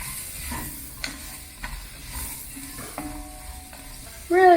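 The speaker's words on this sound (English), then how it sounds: "we're going to give those a good stir around" Vegetables with turmeric and spices are stirred in a hot pan, a soft sizzle running under intermittent scraping and clinking of the utensil against the pan, ending in a louder burst of sizzle.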